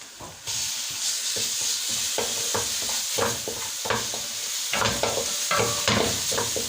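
Garlic hits hot oil with onion and pepper in a pan, giving a loud crackling sizzle broken by repeated scraping stirs of a spoon.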